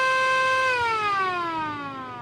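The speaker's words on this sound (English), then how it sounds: "I'm gonna play the siren." A wailing siren tone holds steady, then slowly falls in pitch, loud and clear with no talking.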